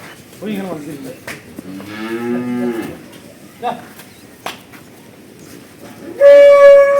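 A large, pregnant black cow moos several times nearby, long low calls with quieter sounds in between, ending with a louder, higher moo.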